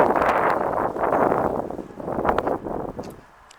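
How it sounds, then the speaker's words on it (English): Wind buffets the microphone outdoors in a garden with mahonia and ribes shrubs, a steady close rumbling roar that eases toward the end. Faint rustling runs through it. "The wind doesn't detract too much from your enjoyment of this video"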